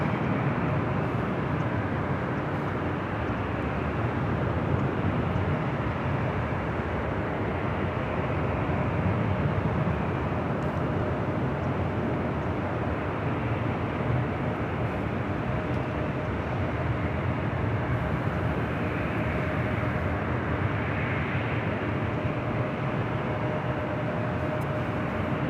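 A steady, loud roar of jet airliners departing from the south side runways at LAX fills the whole stretch, a continuous distant rumble with no pauses.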